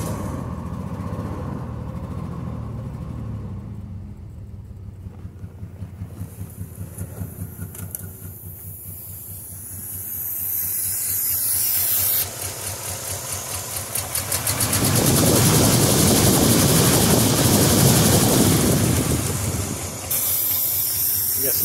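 A Nissan Z31 engine running rough with misfiring cylinders, its uneven idle chugging under hissing noise. The revs rise into a louder, harsher roar midway, then drop back to a rough idle.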